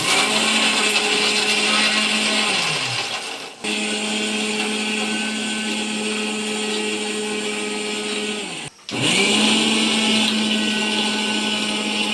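A kitchen mixer grinder whirs loudly while grinding roasted peanuts with cinnamon, cloves, dried red chillies and cumin for a capsicum curry, running in two steady bursts with brief stops around three and nine seconds.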